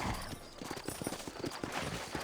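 Horse hooves clip-clop steadily in Red Dead Redemption as a rider sets off from New Ulm, a rhythmic run of close, distinct hoof strikes with no talk over them.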